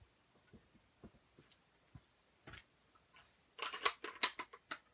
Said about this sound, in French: Et ensuite, je suis venue couper avec des ciseaux